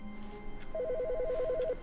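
A telephone rings inside The Stanley Parable game, a warbling electronic trill beginning partway through and repeating steadily for about a second, heard alone over a faint background.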